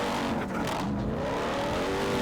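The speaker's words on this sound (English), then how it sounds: "Wide open throttle, how fast can we get?" A 2027 RAM TRX pickup with a 777 hp engine running at wide open throttle off-road, a loud, continuous, steady engine roar heard from inside the cab.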